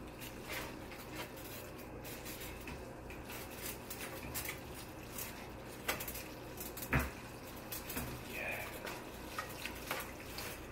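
Food stirred with sauce in a pot on the stove, with soft clinks and scrapes of a utensil against the pot, a sharper clatter near the middle, over a steady low kitchen background.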